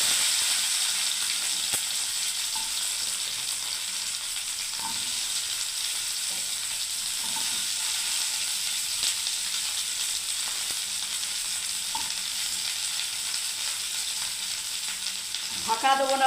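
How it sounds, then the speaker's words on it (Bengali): Okra (bhindi) frying in hot oil in an open pan, a loud continuous close sizzle with faint stirring taps and a brief clatter at the very end. "তেল গরম হয়ে গেলে বন্ধুরা আমি ভেন্ডিগুলো আগে ভাজবো"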